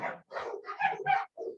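Dogs bark in a quick series of five close, loud barks with short gaps between them, heard during a spoken lecture.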